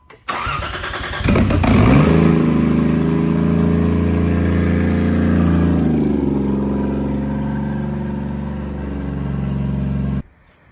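A 1JZ engine fitted in a Nissan R34 cranks and catches with a loud burst. It revs up briefly, then settles into a steady, humming idle that runs on until it cuts off near the end.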